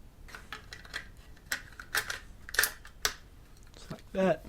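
The bolt of a Ruger Precision Rimfire .22 rifle is worked, with a series of crisp metallic clicks and sliding clacks close by, irregularly spaced, ending in a louder rattle.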